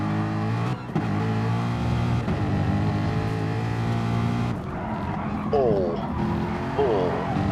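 Redline Mustang supercar lapping the Brands Hatch GP circuit through Paddock Hill in a racing video game, its engine droning steadily with gear-change pitch sweeps, under continuous commentary.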